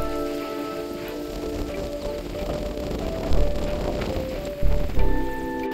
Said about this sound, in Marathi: पाऊस पण मस्त पडतोय, भिजलो आम्ही बाईकवरून येता येता.